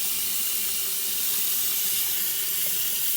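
Running tap water splashes steadily into a sink while a makeup brush is rinsed during a deep clean, a close, even hiss of flowing water for about three seconds with no voices.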